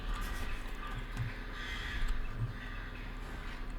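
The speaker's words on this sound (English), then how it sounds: "Where are these crows that are squawking non-stop?" Crows squawking in the game Skyrim, harsh caws repeating almost non-stop over a steady ambient background, moderately loud and without speech.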